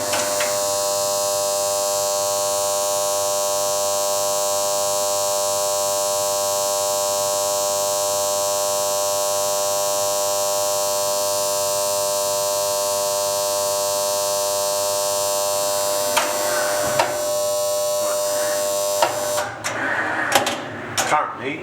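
A vacuum forming machine heats a thick plastic sheet, giving a steady electrical buzz and hum with layered tonal drones that runs unchanged before clicks, handling noises and brief sounds break in near the end.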